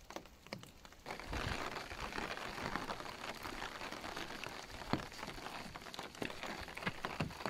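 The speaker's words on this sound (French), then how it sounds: "la pluie continue de plus belle" Steady rain patters and hisses over the ground on a wet winter mountain hike on a paved path in the Bauges, a continuous broadband wash with occasional louder drops.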